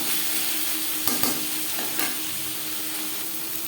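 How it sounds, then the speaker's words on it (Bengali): Thin-sliced chicken and carrots stir-fried in a pan, a constant close sizzle punctuated by a few scraping strokes of the spatula, with no speech. "গাজরের সাথে 3-4 মিনিট চিকেন নাড়াচাড়া করে নেওয়ার পর দিয়ে দেবো ক্যাপসিকাম।"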